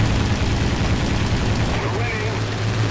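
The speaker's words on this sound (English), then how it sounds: "bullets flying in everywhere" Steady War Thunder arcade battle gunfire, with rapid shots and bullet impacts packed into a dense, continuous roar of combat noise.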